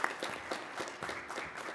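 A conference audience claps in a short, moderately sparse burst of applause, individual claps audible at a middling distance.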